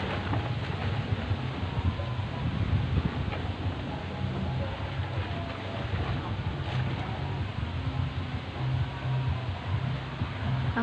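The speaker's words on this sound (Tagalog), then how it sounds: "papakita ko sa inyo ha, gaano ba kalakas ang hangin dito." Strong storm wind just before a typhoon landfall, a loud continuous roar and buffeting rumble against the microphone, with no clear speech over it.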